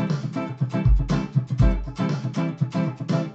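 Fast strummed guitar groove beginning on the downbeat, bright percussive chord strokes in a steady sixteenth-note rhythm with muted low thumps, played close and alone.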